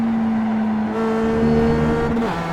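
A Mazda MX-5 race car in the iRacing simulator at Laguna Seca holds a steady, loud engine drone, climbing in pitch and then dropping as it downshifts into third gear, with no talk.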